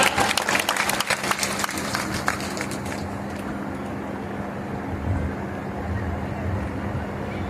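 A crowd at a women's conference with a deputy chief minister applauds, loud clapping at the start that fades within a few seconds into a low murmuring hall with a steady hum.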